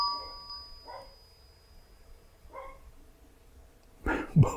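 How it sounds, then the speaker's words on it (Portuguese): A doorbell rings indoors, two soft ding-dong chimes a second or so apart, followed by a louder thump or bump near the end, with no talking. "Tocou uma campainha agora aqui, né?"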